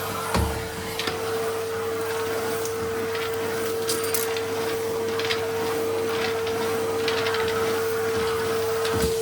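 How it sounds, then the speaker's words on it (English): A household vacuum cleaner running while cleaning an entryway, a steady loud motor whine with a constant hum that starts at once and holds throughout, with scattered clicks and bumps as the nozzle moves. "I'm just going to run the vacuum quickly into there."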